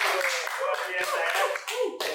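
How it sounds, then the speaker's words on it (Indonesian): A small group claps in quick, overlapping bursts at an indoor wedding-organizer gathering, close and lively, with a voice speaking over the applause. "Tepuk tangan dulu."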